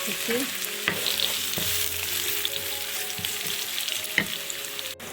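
Onion frying in three tablespoons of oil gives a steady, continuous sizzle, with a few soft clicks and scrapes from stirring and no voices.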